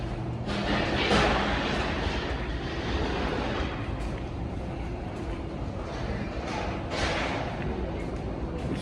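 A metro train ride, with a steady loud rumble and rushing roar of the carriage in motion throughout and slight surges in intensity, heard from inside with no talking.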